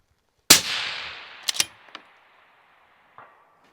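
A single sharp crack from an Accuracy International bolt-action rifle in 6mm Creedmoor, loud and close, followed by a rolling echo and a faint distant impact report a moment later.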